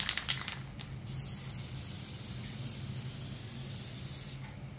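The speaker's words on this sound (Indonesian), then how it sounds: "ini kita contohkan untuk penyemprotan yang terlalu dekat tapi gerakannya" Aerosol spray paint can held too close to the surface and moved slowly, giving a steady, continuous close hiss that runs unbroken through the whole stretch at an even level.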